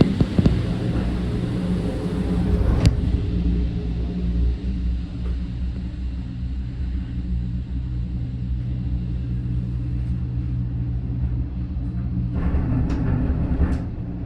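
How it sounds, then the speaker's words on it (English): Zagreb's cable car cabin rides down the mountain: a steady low rumble and hum of the moving cabin fills the scene, with a sharp clunk near the start and light rattles toward the end. "we headed back to the admittedly very nice cable car station to board a car going down the mountain"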